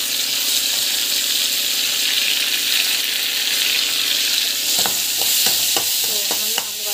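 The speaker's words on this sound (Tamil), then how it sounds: "டமாட்டோ ஆட் பண்ணிவிட்டு நல்லா வந்து வதங்கணும்." Tomato fries with asafoetida in a hot pan, giving a steady bright sizzle throughout, joined near the end by several sharp clinks and scrapes from a stirring utensil.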